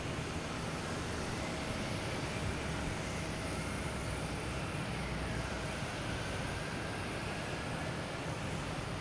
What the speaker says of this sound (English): we got a Porter. That's taking off on 4 left.